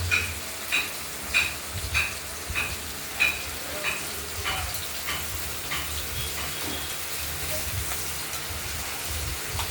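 Ash gourd slices crackle and sizzle in a hot pan, with rhythmic scraping stirs early on that fade into a steady fry.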